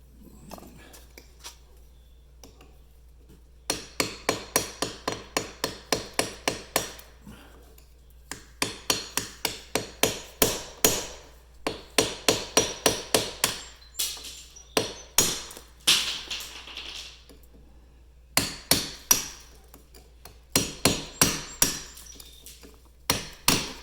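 Hammer driving a chisel into brick to cut it while prepping a window opening, bursts of rapid sharp metallic strikes in steady rhythm, separated by short pauses, close and loud.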